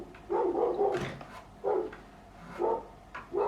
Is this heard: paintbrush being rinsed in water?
no